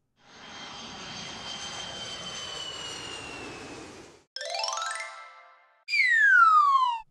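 A cartoon airplane engine sound effect gives a steady whooshing drone with a high whine for about four seconds, then cuts to a rising chime-like sweep and a loud falling zip, alone and close.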